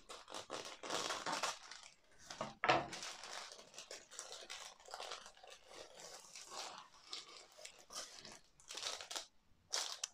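Plastic packaging of a diamond painting kit crinkles and crunches as it is torn open, loud and close, in repeated bursts with short pauses, no talking.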